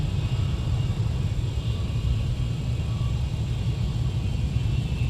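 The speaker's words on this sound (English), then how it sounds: "flight heading 140, and 17, clear for takeoff" A Delta airliner taking off at MSP airport, a steady broad jet roar and low rumble holding at constant loudness throughout, with no talk.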